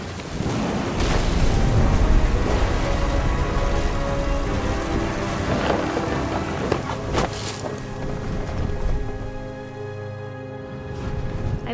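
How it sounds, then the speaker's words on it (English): Thunderstorm with heavy rain in the video game What Remains of Edith Finch: loud continuous rain hiss with deep rumbling thunder rolling underneath, easing slightly toward the end. "The thunder sounded much too close and full of angry power"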